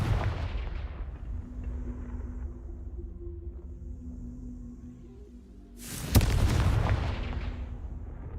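Confringo spell explosions in Hogwarts Legacy, a booming blast fading into a low rumble, then a second sudden loud explosion with a long rumbling tail, close and heavy.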